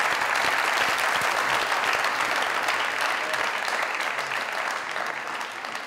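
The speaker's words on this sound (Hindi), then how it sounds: "जोरदार ताली।" A studio audience at a comedy talk show claps in a dense, continuous round of applause that stays strong and then slowly fades toward the end.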